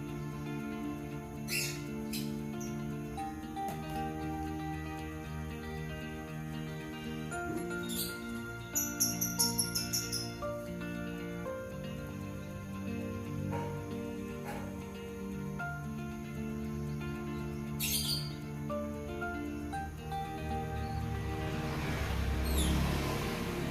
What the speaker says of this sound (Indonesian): ada anakan burung punai